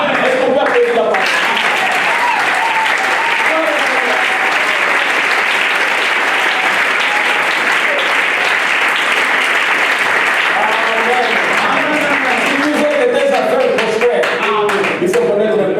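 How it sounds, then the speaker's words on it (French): An audience at a French-language church sermon breaks into sustained loud applause, dense clapping throughout with voices and cheers mixed in. "Est-ce qu'on peut applaudir la parole?"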